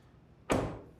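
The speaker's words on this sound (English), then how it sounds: "We close the door." A car door swings shut in one loud, close thud with a short fading tail, just after an interior detailing job, with no one talking.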